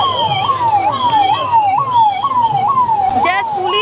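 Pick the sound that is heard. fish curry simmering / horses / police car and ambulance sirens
police car and ambulance sirens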